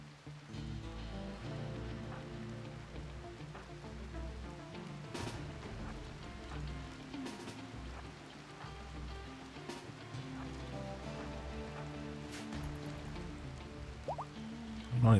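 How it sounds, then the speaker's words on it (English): Steady rain in the video game Rimworld, a faint continuous patter with drips running under quiet in-game hums and tones, with no voices. "Oh, it's raining, so some of my advantage is lost."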